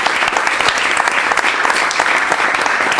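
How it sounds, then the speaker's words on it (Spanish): A crowd claps steadily and densely for two women debaters at a political debate, a loud, close, continuous applause lasting the whole stretch with no voices standing out. "les vamos a dar un aplauso a las 2"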